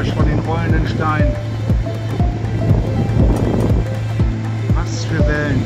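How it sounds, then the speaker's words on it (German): Stones rolling and clattering in the surf on a beach, producing rapid knocking and tumbling sounds beneath wind noise and the wash of waves, with a person speaking over it. "Und mein Lieblingsgeräusch von den rollenden Steinen."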